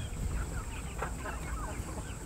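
Chickens of mixed laying breeds cluck steadily on a farm, several birds close by in a continuous busy chatter with a constant high hiss in the background.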